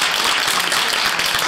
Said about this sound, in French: une bonne main d'applaudissements pour nos conférenciers